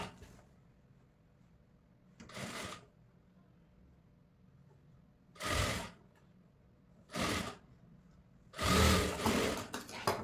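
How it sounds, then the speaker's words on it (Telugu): A sewing machine stitches a cloth frills frock in four short, whirring bursts separated by quiet pauses, close and clear in an otherwise hushed room. "సేమ్ ఇప్పుడు ఇలా కుట్టేసుకుంటూ వెళ్ళిపోవాలి."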